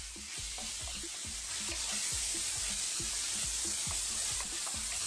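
Smoked bacon sizzles and spits steadily in a pan over high heat, a dense continuous frying hiss with regular soft clicks of stirring throughout, close and fairly loud with no voices.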